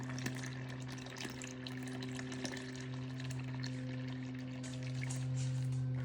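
Roughly six cups of milk poured into a pot on the stove for a Christmas drink, a steady continuous liquid stream over a constant low hum, with no talking.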